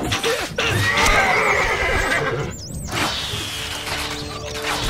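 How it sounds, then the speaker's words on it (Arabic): A horse in the Stronghold Crusader video game neighs loudly up close, a wavering whinny with snorts and movement, followed by further high squealing calls over a busy background. "الحصان سريع سموكم"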